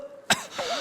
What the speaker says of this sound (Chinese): 我旁边这个人一直在咳嗽